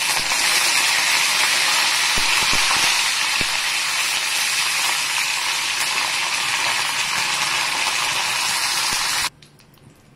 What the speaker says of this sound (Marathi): मोहरी तडतडतीये छान.